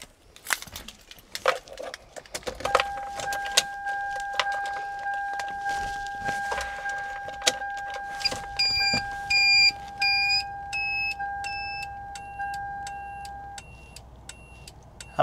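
A loud homemade turn signal alarm wired into a car beeps in a steady rhythmic pattern with a sustained tone underneath, preceded by clicks and handling noises as the key is turned.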